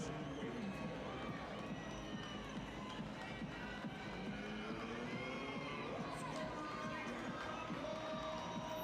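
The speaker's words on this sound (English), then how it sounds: "Pretty nice crowd here for this semifinal game." Crowd murmur fills a high school gym before a boys basketball semifinal, steady chatter, shuffling and scattered shouts from children, with occasional cheers rising over the continuous din.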